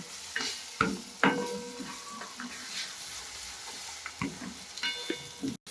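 Mango pieces fry in a spiced oil tempering for South Indian mango rice, giving a soft sizzle broken by a few sharp scrapes and clinks of a stirring spoon against the pan.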